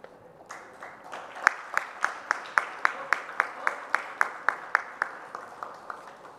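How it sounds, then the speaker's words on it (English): Rhythmic, evenly spaced clapping from an audience at an award ceremony for the runners-up of an innovation summit, building from scattered claps into a steady beat that keeps up to the end. "A round of applause for the runners-up"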